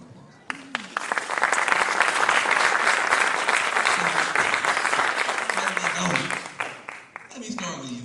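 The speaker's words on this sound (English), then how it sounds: "So please give my panel a round of applause." Crowd at a college event with Democratic presidential candidates applauds a panel, clapping building quickly into a loud, full roar that holds several seconds before tapering, with voices murmuring at the edges.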